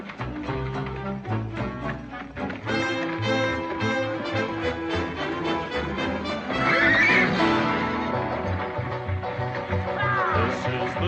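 Horses neighing in a frontier-era drama scene, several loud whinnies over a busy music-like background, with hooves and movement nearby.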